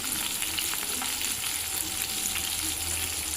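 Spices sizzling in hot oil for egg masala, a steady bright crackling hiss with soft stirring scrapes, close and even throughout without pauses.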